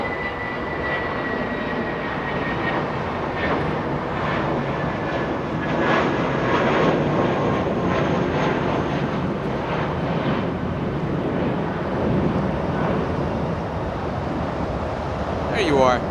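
Jet airliner engines at Los Angeles International Airport rumble in a steady, continuous roar, with a Boeing 777 going around nearby, as a commentator talks over the noise.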